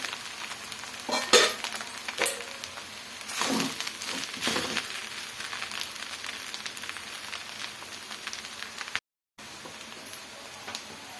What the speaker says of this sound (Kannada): ಈ ಥರ 5 ನಿಮಿಷ ಆದಮೇಲೆ ಈ ಥರ ಫ್ರೈ ಮಾಡ್ಕೊಳ್ಳೋಣ